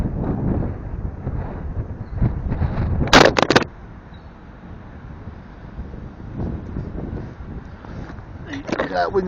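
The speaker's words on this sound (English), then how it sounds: "That wind's even blowing the bloody camera over." Strong wind buffets the microphone on Lowestoft fishing pier in Suffolk, roaring in gusts with a sharp blast near the middle, while someone talks over it.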